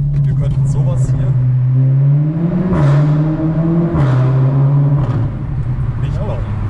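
A Seat Leon Cupra 300 engine idling, then revving twice with the exhaust flap open, each rev swelling and dropping back under a German-speaking voice.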